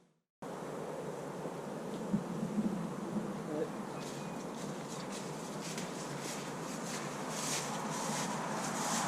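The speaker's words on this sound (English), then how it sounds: "we're going to catch a swarm of bees here" A swarm of honey bees settled in a rose arbor gives off a steady, dense outdoor buzz that carries through the whole stretch, with some wind noise and no voices.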